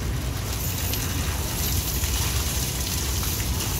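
Ground food waste water, left after grinding in a food waste disposal, pours steadily down a drain in a continuous wet gushing wash that stays even in level for the whole stretch, with no talk.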